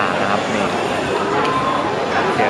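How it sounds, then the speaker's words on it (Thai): Dense crowd babble fills the upper floor of Fashion Island shopping mall near the food court, a steady wash of overlapping voices and clatter heard from within the crowd. "นี่คือสภาพเสียงรอบๆของ แฟชั่นไอแลนด์ชั้นบนนะครับ"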